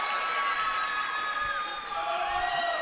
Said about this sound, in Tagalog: what you like about this Bauan crowd, they cheer exactly the same way, be it a free throw, a basket, or a defensive stop